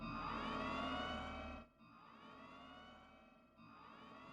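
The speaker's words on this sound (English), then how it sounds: "I can't sit here and listen to the Pink Paws siren." A wailing electronic siren from the Pink Paws video game sounds in sustained, pitch-sweeping bursts that briefly drop out twice before starting up again loudly.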